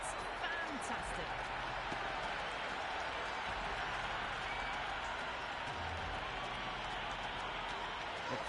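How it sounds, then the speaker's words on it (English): A cricket stadium crowd at an India versus South Africa T20 warm-up match in Mumbai roars and applauds in a dense, continuous wash, with a commentator talking over it. "The crowd is electric right now."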